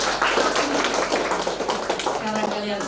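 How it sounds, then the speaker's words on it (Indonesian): Wedding guests applauding at a church ceremony, a crowd of light clapping heard under an officiant speaking. "Kita beri tepuk tangan."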